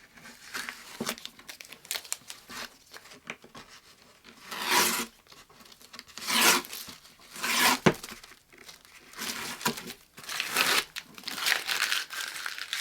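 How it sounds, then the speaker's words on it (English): Painter's tape peeled off a piece of wood in several separate crinkly tearing pulls, close and fairly quiet, with short pauses between strips. "We're going to remove our painter's tape."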